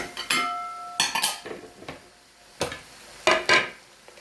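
A utensil folds bean sprouts into shrimp pad thai noodles in a pan, making a few scattered metallic clinks and scrapes against the pan, close and clear with no talking.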